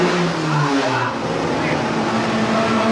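A touring race car with a Volkswagen EA211 1.6 16-valve engine revs loud and close during qualifying, its engine note rising and falling with a steady roar, and someone talks faintly underneath.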